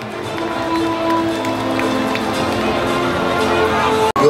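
Audience applause at an awards moment of a DBL basketball camp with Indonesia All Star 2024 players, a loud sustained clapping and cheering wash ending in a brief cut.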